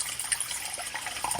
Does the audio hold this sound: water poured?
yes